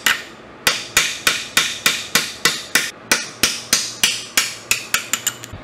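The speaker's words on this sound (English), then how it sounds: "then we'll drive out this dowel pin" A mallet strikes a dowel pin in a ZF S5-42 transmission casing: about eighteen sharp, ringing metallic blows at a steady, slightly quickening rhythm, loud and close with nothing else heard.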